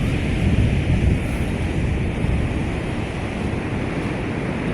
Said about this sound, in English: see a spot like this and the waves pretty rough